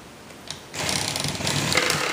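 Power drill driving pocket screws into cabinet corners, a faint click followed by a steady whirring buzz of the screw going in, close and alone.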